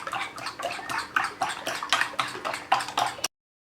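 Eggs with pepper and salt are beaten in a bowl with rapid rhythmic whisking taps, about a dozen quick strokes, close and moderately loud, then stopping abruptly.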